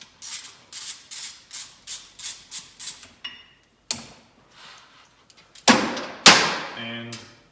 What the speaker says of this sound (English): You gotta remove the set screw from the middle.